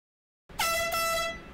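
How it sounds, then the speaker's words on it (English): Air horn blast breaking out of silence, a single loud, piercing, buzzing tone held steadily for about a second close to the microphone. "I got an air horn, and it's loud as a"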